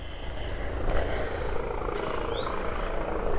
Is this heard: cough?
no